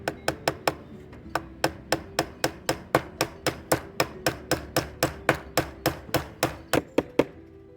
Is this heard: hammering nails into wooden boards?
yes